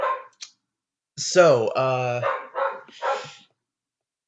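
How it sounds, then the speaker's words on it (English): A dog barks several times nearby indoors, with a couple of short yips followed by longer, louder, ringing barks, while a person speaks briefly around them. "pardon my dog."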